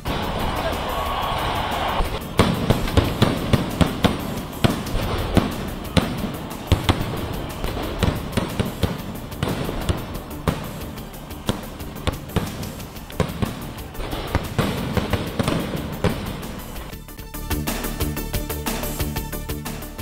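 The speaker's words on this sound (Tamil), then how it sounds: "வான வேடிக்கைகளைக் கண்டு சென்னை அணி ஆதரவு ரசிகர்கள் உற்சாகம்." Fireworks burst in a dense, continuous crackle and popping during a fan celebration of Chennai's IPL win, loud and sustained with rapid overlapping bangs.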